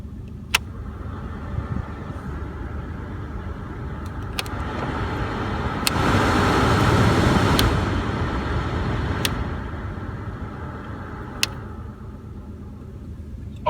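A 2008 Ford Explorer's blower motor fan runs with a steady broadband whoosh that swells louder for a few seconds in the middle and then eases back, with occasional sharp clicks over it.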